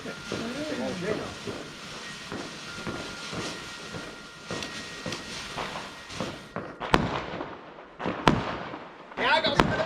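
Bonfire night fireworks, including a volcano fountain firework, hiss and crackle in a steady fizzing rush outdoors, with several sharp bangs near the end while people talk over it.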